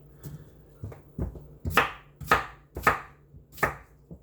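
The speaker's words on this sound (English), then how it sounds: "You can cut them up into big pieces, into small pieces, or whatever you feel like having them in." Knife chopping meat into pieces on a cutting board for a spicy hot soup, with about eight firm, close chops in an uneven rhythm, heard alone.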